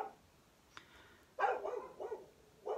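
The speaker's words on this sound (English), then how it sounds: "I don't know what they're barking about" Dogs bark outdoors on a farm in a few short bursts, one sharp yelp and then a quick run of barks, moderately loud and slightly distant against a quiet background.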